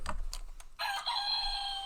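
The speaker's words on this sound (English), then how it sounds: "Someone shut that bird up!" A rooster crows in the morning, a loud sustained cock-a-doodle-doo with bright harmonic bands that follows a few short clucks and knocks.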